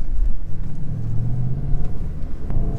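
A 2016 Overfinch Range Rover SVR engine while driving: a deep, steady rumble that rises slightly as it accelerates, heard from inside the cabin and continuous throughout.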